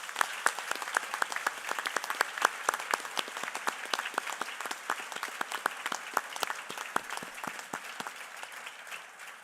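Sustained applause from a graduation audience, dense rapid clapping from many hands continuing steadily and gradually easing toward the end, with no talking over it.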